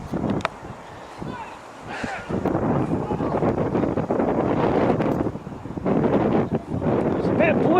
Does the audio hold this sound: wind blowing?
yes